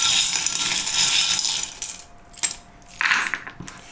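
Small metal divination charms tossed together, a bright jingling cascade at the start that settles, then a few lighter clinks and a second short jangle, close and clear with no talking.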